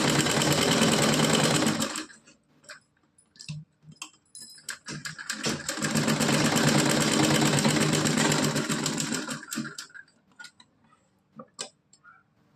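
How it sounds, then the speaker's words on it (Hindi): A sewing machine stitches a dhoti kurta outfit for a Laddu Gopal doll, running in two loud, steady whirring bursts near the start and middle, separated by quiet handling clicks and taps. "तो यहाँ पे पूरे में सिलाई लगा दूँगी।"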